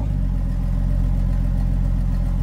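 A 1982 Ford F150 pickup's rough, low engine idles steadily with a loud, throaty exhaust rumble from an exhaust broken right after the manifold, close by and unchanging throughout.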